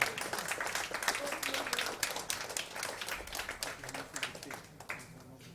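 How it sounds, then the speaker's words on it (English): An audience at a book launch applauds, dense clapping from many hands filling the room, fairly faint and fading slightly toward the end. "let your applause be relentless for this wonderful moment"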